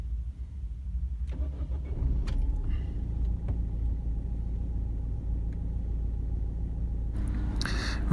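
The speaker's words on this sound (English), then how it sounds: "When car is started," Diesel car engine cranking and catching, then settling into a steady low idle rumble, heard close with no talk and a brief clatter at the end.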